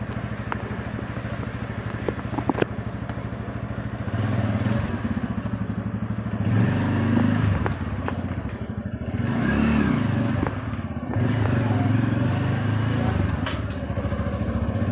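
A motorcycle is being ridden on a road, its engine droning steadily with rises in pitch as it accelerates, close to the rider and continuous throughout.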